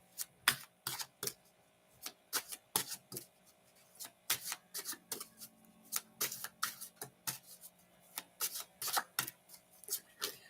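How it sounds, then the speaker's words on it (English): Rapid riffling and soft snapping bursts repeat in quick irregular clusters, like cards being shuffled close by, with no talking. "as I'm shuffling the cards"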